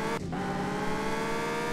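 An Audi S5 in Car For Sale Simulator drives with a steady, loud engine drone and a sustained tonal hum, briefly dipping near the start, with no speech.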